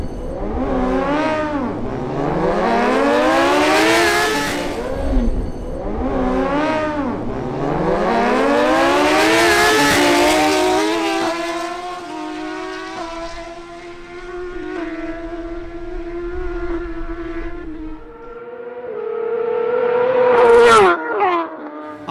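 A Suzuki GSX-R1000 motorcycle launches on a drag run, its engine screaming up through repeated rising gear-by-gear sweeps, loud and close, then settling into a steady high drone before a final sharp rev.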